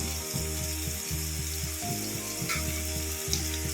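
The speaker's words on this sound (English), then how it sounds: "The tomatoes are cooking nicely." Tomatoes fry in a pan for beans in coconut curry, giving a steady close sizzle with a low hum underneath and occasional soft stirring clinks.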